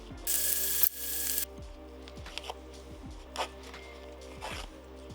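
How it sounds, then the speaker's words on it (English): Glued trim being peeled by hand from the OEM shift boot of a 2022-or-later Subaru WRX: a close, dry tearing rasp at first, then soft crackling pulls and occasional sharp ticks as the material separates, with no talking. "you just grab one corner and you just start peeling and just work your way around until they're separated"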